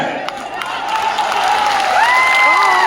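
A political rally crowd breaks into sustained clapping and cheering, a dense, loud wash of applause that swells steadily over a few seconds with a voice rising above it.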